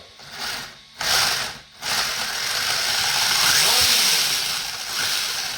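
Brushless motor of a Wltoys 144001 RC car with aluminum hubs whining under throttle, a loud steady buzzing drone with two brief dips early on, close by and alone.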